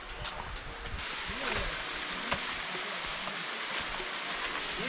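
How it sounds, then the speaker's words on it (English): A small jungle waterfall on the Andaman Islands gives a soft, steady wash of falling water, faint and continuous, with scattered rustles and faint voices in the background. "So this is the waterfalls over here. Small waterfalls inside the jungle."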